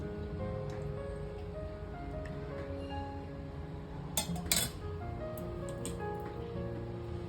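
A spoon clinks a few times against a pan as a spoonful of oil goes in for onion chutney, quick metallic taps near the middle over a low, steady background hum.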